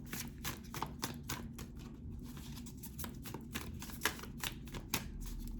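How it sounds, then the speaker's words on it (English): Tarot cards are shuffled in a quick, steady riffle of soft papery flicks and taps, close and moderately quiet, as a single card is drawn. "I'm going to pull one more card for you."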